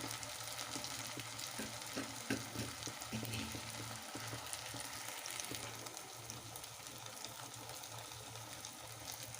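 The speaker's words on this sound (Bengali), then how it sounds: "এইরকম লাল লাল করে ভেজে তুলে নেব" Fritters frying in a pan of hot oil, a steady faint sizzle and crackle with occasional soft clicks, continuous and unbroken with no voices.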